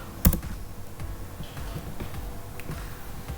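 Python code is typed on a computer keyboard: one loud, sharp keystroke opens, then lighter clicks and taps follow irregularly, close and clear, with no talking.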